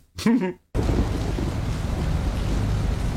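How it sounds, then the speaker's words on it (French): Steady, dense broadband hiss of rain, loud and continuous, following a brief burst of voice at the start. "Et il ne cesse de pleuvoir."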